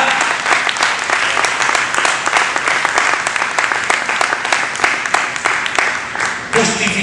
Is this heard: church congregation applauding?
yes